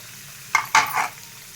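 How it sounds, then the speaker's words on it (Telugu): Large-cut onions and curry leaves fry in a hot pan, with a low steady sizzle under two quick scraping stirs in close succession. "ఇట్లా ఒక 2 నిమిషాలు ఫ్రై చేద్దాం."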